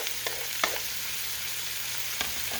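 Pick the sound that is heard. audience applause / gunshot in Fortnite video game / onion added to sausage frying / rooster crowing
onion added to sausage frying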